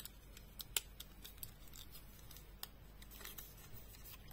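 Scissors snip through paper while a pop-up scrapbooking card is being made: a sparse series of quiet, sharp clicks and crisp cuts scattered over a few seconds against a faint background hum, with no talking.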